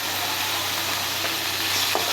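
Fish sizzling and frying steadily in a pan, a continuous bright crackle with faint stirring, close and fairly loud, no talking.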